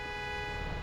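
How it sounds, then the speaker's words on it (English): A car horn honks in the Big Ambitions video game, one steady, sustained blare held for about a second. "Don't honk at me."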